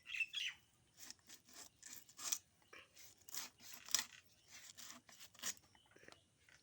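Repeated rasping cutting strokes, likely a knife working through fish or vegetables for a curry, come in an irregular run of short bursts with bright high-end scrapes, close and fairly quiet, with no talking.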